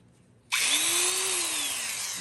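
A vintage Craftsman Model 315.7790 electric drill switches on abruptly and whirs loudly and steadily, its pitch rising then easing slightly as it keeps running.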